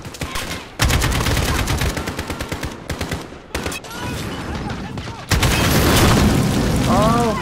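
Bursts of rapid automatic gunfire with heavy booming recoil in Call of Duty Modern Warfare, loud and close, broken by brief pauses and ending in a sustained barrage with a voice exclaiming.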